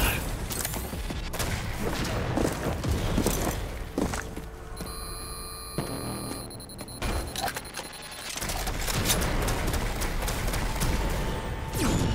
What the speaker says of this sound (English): He's shooting that poor dude.